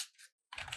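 A couple of quick keystrokes on a computer keyboard enter numeric values, close and soft clicks split by a brief silence.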